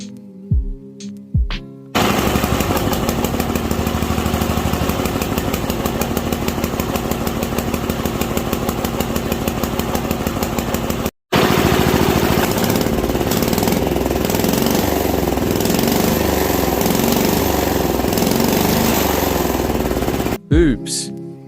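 A diesel mud mower engine gives a loud, steady drone with rapid rhythmic chugging for several seconds, cuts out briefly, then resumes before stopping.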